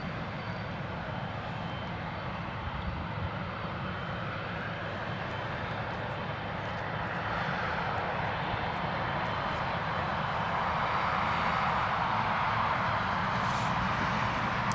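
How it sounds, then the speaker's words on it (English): An Emirates Boeing 777 arriving from Dubai and landing at Newcastle Airport, a broad steady jet-engine roar heard from a distance that slowly swells louder over the whole stretch. "You've just seen, if you've been watching, the Emirates 777 land here at Newcastle all the way from Dubai."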